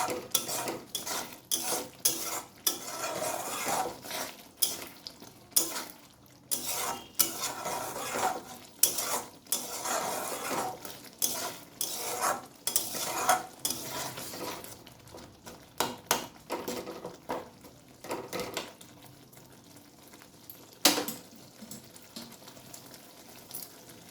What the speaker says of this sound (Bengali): যতক্ষণ এটা তেল একদম ছাড়তে না থাকবে ততক্ষণ কিন্তু কষাতে হবে।